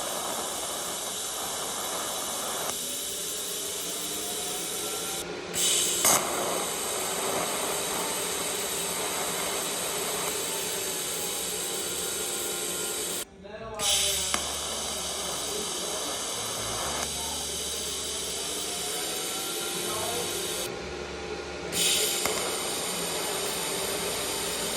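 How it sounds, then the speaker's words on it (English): An electric welder runs on the steel legs of an anti-roll bar for a small-tire no-prep drag car, giving a steady loud hiss and crackle over several long passes, broken by a couple of brief stops. "I got the legs tacked up and somewhat welded"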